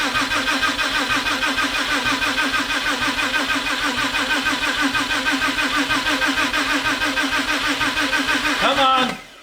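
A rebuilt 12-valve VR6 engine cranks for its first start: a fast, rhythmic starter churn repeating steadily for about nine seconds, close and loud, ending with a brief catch before cutting off.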